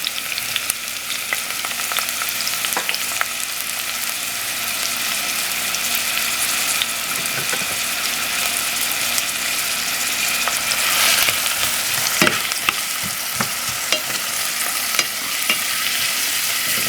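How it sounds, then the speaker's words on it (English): Onions and garlic frying in warm oil in a pan, a steady close crackling sizzle that runs throughout, with occasional utensil stirs and clinks and no one talking. "Okay, the oil is warm and ready. I'm gonna add my onions."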